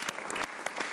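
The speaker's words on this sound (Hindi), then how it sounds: "साहबजादा फरहान के लिए बहरहाल मैं एक जोरदार तालियां अपनी ऑडियंस को देना चाहता हूं।" Studio audience applause on a Pakistani cricket talk show, a steady dense burst of clapping filling the whole second with no talk over it.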